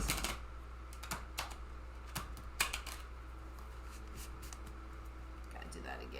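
Tarot cards are shuffled in a muffled way, giving a series of soft, quick riffling clicks and taps that cluster near the start and then thin out, close by against a low steady hum.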